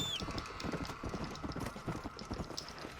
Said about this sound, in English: that right there was the perfect horse spawn